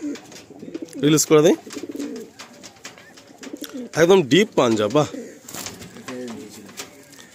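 Pigeons coo at a loft with black tournament pigeons, soft repeated calls mixed under loud nearby talk and exclamations, with handling bursts.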